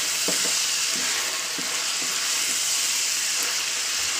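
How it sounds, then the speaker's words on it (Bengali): Meat fries in hot oil with a loud, continuous sizzle up close, while occasional soft knocks from stirring sound over it. "আমি 4 থেকে 5 মিনিট ধরে আমি মাংসটাকে ভাজা ভাজা করে নিয়েছি"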